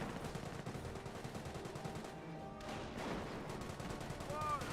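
Gunfire strikes Panzer Grenadiers in Company of Heroes, a dense rattle of machine-gun and rifle shots with explosions, continuous and mid-distance under a commentator's voice.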